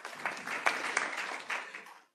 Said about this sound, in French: Vous pouvez applaudir Olivia Grégoire